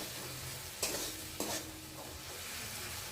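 Tamarind water goes into a tomato dish frying in a pan, and a steady sizzle runs throughout with two brief sharper spurts near the middle as the liquid lands in the hot oil.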